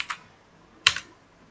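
Two crisp clicks of keys on a computer keyboard, a faint tap followed by a louder double clack, close and alone.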